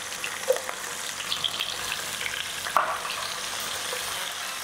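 Onions fry with ginger in a pan, giving a steady close sizzle with a couple of sharper clinks and stirring knocks breaking through.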